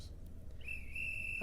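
A police whistle sound effect plays in the background, a thin, steady high-pitched tone that enters partway through and holds on, quiet beneath a low hum.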